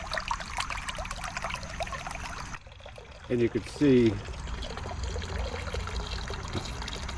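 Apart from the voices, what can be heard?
pond pump frog fountain trickling water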